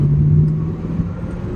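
A Corvette C4 that sat in a barn for 30 years, its engine heard from on board while driving: a steady low drone with a faint whine, holding even and fairly loud before easing slightly.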